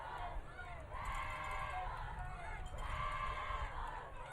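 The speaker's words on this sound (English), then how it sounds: "The South High crowd starting to get loud below us." A high school football crowd at a night game cheers from the stands below, a broad distant roar that swells twice, with voices talking over it.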